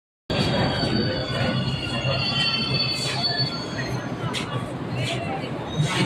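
Inside a moving Delhi Metro train carriage, a constant low rumble with faint wheel squeals over it, and people talking throughout.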